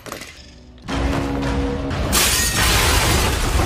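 A grenade blast in an action film scene about a dangerous convict turned special forces soldier: a sudden loud burst of shattering debris that holds at full, dense roar for several seconds with no speech.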